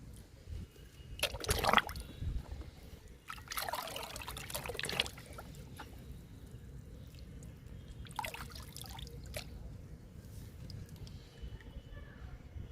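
Neem leaf liquid pours from a container onto potted plants, a soft trickling and splashing that comes in a few short bursts. Quiet outdoor background hum fills the gaps between pours.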